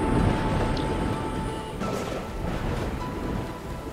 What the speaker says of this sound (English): Oh, a storm's a brewing.